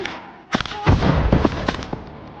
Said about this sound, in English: Buildings housing enemy troops are hit with RPG fire.